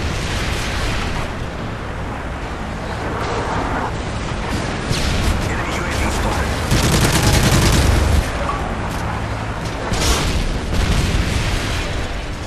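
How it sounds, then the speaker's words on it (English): A Predator missile strike and a strafe run in Call of Duty Modern Warfare 3 on the Dome map. Loud, continuous explosions and rolling gunfire boom throughout with little break. "Friendly Predator missile inbound."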